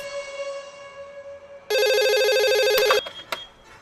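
A telephone rings with an electronic tone: a steady pitch at first, then a loud, rapidly warbling burst lasting over a second, followed by a few short clicks and thuds, with no speech.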